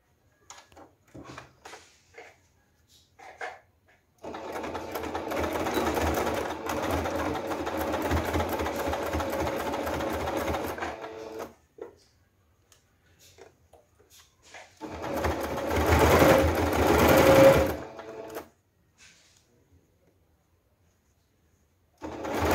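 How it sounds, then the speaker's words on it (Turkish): Sewing machine stitching a summer crossbody bag made with crochet lace and boro-sashiko patchwork, two steady runs of several seconds each, loud and close, separated by quiet handling of the fabric. "Ve bir makine çekeceğim. Makinesini hemen çekelim."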